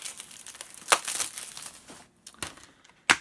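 Plastic shrink-wrap on a Blu-ray film case being torn and crumpled off, with bursts of crinkling at the start and short sharp rips near the end, close and moderately loud with no talk.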